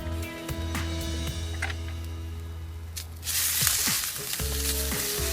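Garlic and ginger paste sizzles in a hot cast iron pan for a beef and broccoli stir fry, a steady close frying hiss that surges louder midway as more goes in, with a few light clinks.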